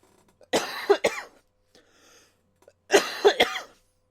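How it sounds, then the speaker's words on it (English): Two bursts of coughing, each a pair of sharp, close coughs with a throat-clearing quality, separated by a quiet gap with faint background noise. "apologies for the cough there."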